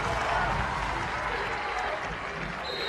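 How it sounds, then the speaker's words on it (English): Dense, steady roar of a crowd filling a gym during crunch time of a one-point girls high school basketball regional game between Noblesville and Homestead, broad and continuous for a few seconds with a faint lull near the end. "Listen to the crowd."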